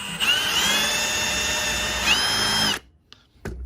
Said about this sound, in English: I won't drill all the way, but I'll use that to mark